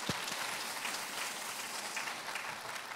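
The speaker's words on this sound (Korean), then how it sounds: "우리 하나님께 영광의 박수 올려드립시다" A church congregation gives a Sunday afternoon worship round of applause, a soft, continuous wash of many hands clapping, somewhat distant and faint, with no talk over it.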